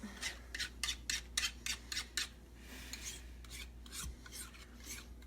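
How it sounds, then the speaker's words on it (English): Cake batter for a caramelized banana upside-down skillet cake is whisked to break up lumps. Quick rhythmic scraping strokes come in a run of about ten, then softer irregular ones follow, close and quiet with no voices. "so I'm going to whisk that a little bit"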